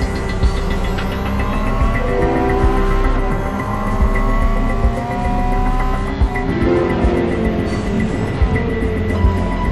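Ferrari F40 LM race car in the video game Real Racing 3, engine revving and shifting through gears, with pitch sweeps rising and falling, brief tire squeal and steady loud road roar.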